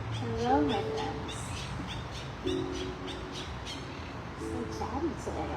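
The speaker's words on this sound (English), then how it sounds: "So chatty today, all the birds." Birds squawk and chatter outdoors, with harsh crow-like caws and warbling calls scattered over a steady background wash, while a person talks faintly underneath.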